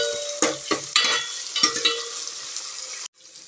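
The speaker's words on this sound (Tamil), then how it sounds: "வெங்காயம் நல்லா வதங்கட்டுங்க, செவக்க வதங்கட்டுங்க." Small onions sauté in a pan with garlic and curry leaves for a ladies finger kulambu, a close sizzle punctuated by several scraping stirs of a spoon before it cuts off briefly.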